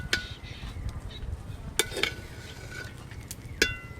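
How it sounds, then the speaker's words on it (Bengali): Pulao being stirred with ghee in a pot: faint scraping with a few distinct spoon clinks spaced about two seconds apart. "এবার সব কিছু একসঙ্গে খুব ভালো করে মিশিয়ে নেব"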